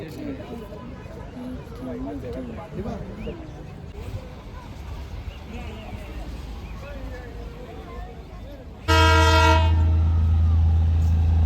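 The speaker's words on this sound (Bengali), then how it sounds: "এখন টয় ট্রেনটা বাতাসিয়া লুপে দাঁড়িয়ে রয়েছে মানে এইমাত্র ঢুকলো" People chatter nearby at Batasia Loop in Darjeeling, then the Darjeeling toy train's horn blares loudly and holds steady for the last few seconds as the train pulls in.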